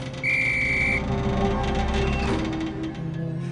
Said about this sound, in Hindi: तभी हमें एक सीटी सुनाई दी।